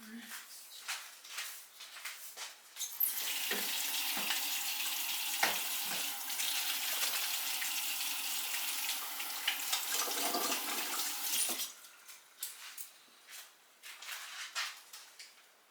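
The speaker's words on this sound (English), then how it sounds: "Let me wash my hands first." Hands being washed under a running tap: a steady rush of water runs for about eight seconds, framed by quieter handling noises before and after.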